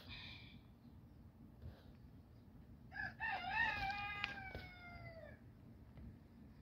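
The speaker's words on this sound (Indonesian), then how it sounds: "dan sesekali terdengar ada ayam berkokok" A rooster crows once in the distance, a long wavering call rising and falling over a quiet outdoor background.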